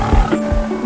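A tiger gives a short, deep growling roar, close and loud, lasting under a second.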